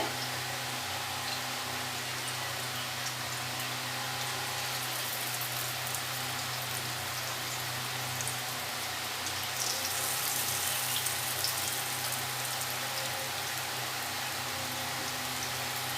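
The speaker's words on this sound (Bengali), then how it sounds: "সেই তেলেই আমি এই ঝিঙের বড়াগুলো ভেজে নেব এভাবে" Ridge gourd fritters (jhinge pakora) frying in oil left over from frying pumpkin, giving a continuous, even sizzling hiss like steady rain that holds throughout without pause.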